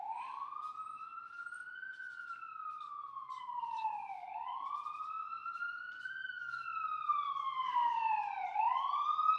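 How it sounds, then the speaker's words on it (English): A police siren wails in slow rising and falling sweeps, fairly distant and steady, with nothing else audible around it. "let's let the siren go by here"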